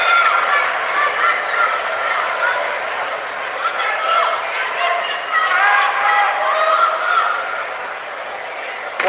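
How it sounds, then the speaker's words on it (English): A large arena crowd at the judo world championship finals roars and cheers steadily throughout, a dense continuous wash of voices with no breaks. "Wow, what a crowd this is."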